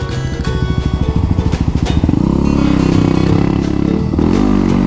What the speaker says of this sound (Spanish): la amada WR 250X, que es nuestra moto, que es esta que están viendo aquí, que estoy manejando